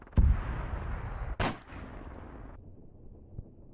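A sniper rifle shot fires loud and close in Arma 3, a sharp crack followed by a rolling tail that fades, with a second short burst soon after.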